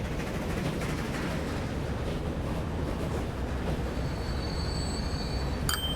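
A train in the railway game Transport Fever 2, running UK mods, gives a continuous, loud low rumble of rolling wagons, with a thin metallic wheel squeal rising near the end and a brief sharp clank.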